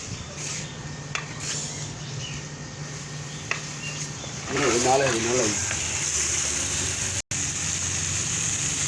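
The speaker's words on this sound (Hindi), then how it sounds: "अब डालते हैं थोड़ा सा पानी" Water poured from a cup into a cooking pot of chicken mash dal, a soft splashing gush rising midway and continuing steadily at moderate level over a low background hum.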